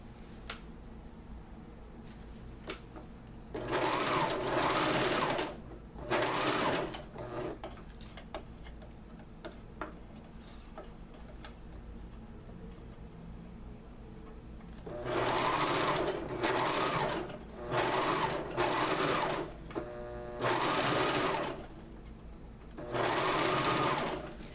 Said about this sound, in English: I have my serger again set at a rolled hem. And I make sure the fishing line sits on top of the fabric at the very edge